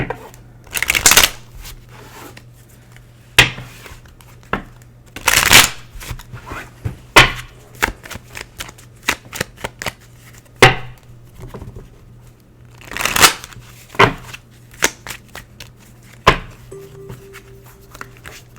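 Tarot cards shuffled and handled near the microphone, with irregular riffling bursts and crisp snaps spread across the stretch, under quiet background hum and no talking.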